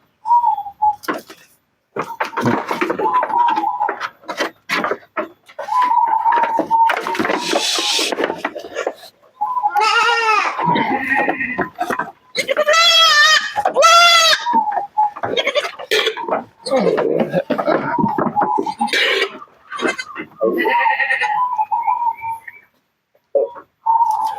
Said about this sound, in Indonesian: lihat teman-teman, kambingnya berontak terus, nggak mau.